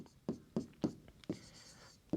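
Chalk or marker strikes a board in quick, separate taps while a maths problem on circle areas is worked out, roughly six sharp knocks at irregular intervals, fairly quiet and close.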